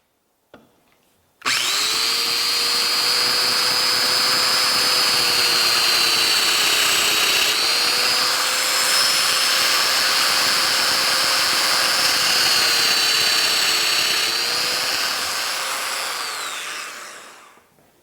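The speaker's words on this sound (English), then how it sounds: "Let that planer do some of that work for me." A thickness planer feeds wood boards, a loud, steady motor whine with a high tonal hum that holds for about fifteen seconds, dips slightly as the boards pass, then winds down at the end.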